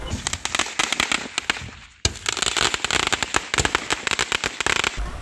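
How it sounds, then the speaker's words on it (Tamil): A Megvi brand melody whistling shot firework, a 15-shot cake, going off with rapid, loud crackling bursts and a whistling hiss that cut out briefly before resuming, close and unbroken by talk. "இது மெக்வி பிராண்ட்ல மெலோடி விசிலிங் ஷாட்னா 15 ஷாட் விசிலிங்"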